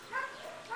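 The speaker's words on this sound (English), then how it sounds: "He's a really sweet two to three-year-old border collie male." A young male border collie, two to three years old, gives a short soft whimpering yip at an animal shelter, brief and close, lasting under a second.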